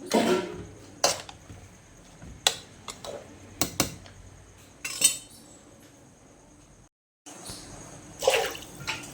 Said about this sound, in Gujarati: કુકર ભરાઈ ગયું છે તો તેને આ રીતે બધું જ મિક્સ કરી